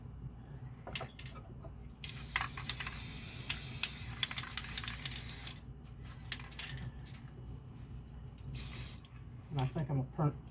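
A spray can mists clear sealer onto a handmade wooden bracelet holder in one long hissing burst of a few seconds, then a short second burst, close up, with a voice briefly at the end.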